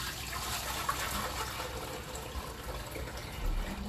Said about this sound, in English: Pour it back into the pot.